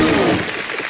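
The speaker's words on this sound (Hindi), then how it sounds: "एक बार जोरदार तालियां हो जाए आदित्य के लिए।" A studio audience on a Hindi comedy talk show bursts into a short, loud round of clapping for Aditya, lasting only about a second.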